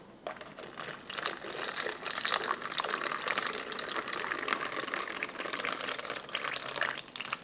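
Water pours steadily into an MRE cocoa beverage pouch up to its fill line, a continuous close splashing, gurgling rush lasting several seconds without speech.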